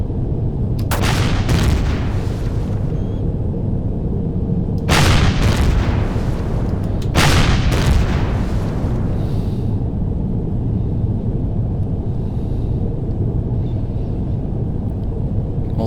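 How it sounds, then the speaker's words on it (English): Enemy miniguns fire in the space game Empyrion, three loud bursts of rapid gunfire standing out over a steady low rumble of ambient noise, each burst a second or two long and fading off. "Minigun guys shooting at me."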